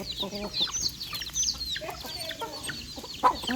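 Chickens cluck in a rural farmyard, a busy run of short, overlapping calls from several birds at close to middle distance, with faint background noise.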